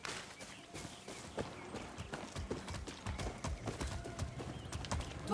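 Horse hooves clip-clop steadily in Far Cry 6, a continuous run of close, fairly loud hoofbeats with a brief whinny-like hint and game ambience underneath.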